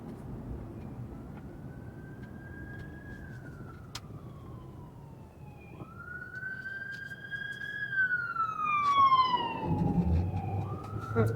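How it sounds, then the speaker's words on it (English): An ambulance's wailing siren rises and falls steadily over low road rumble on Dallas Avenue in Lancaster, Texas, growing louder and shifting pitch as it draws near and passes. "Ambulance or police or what? Ambulance, probably."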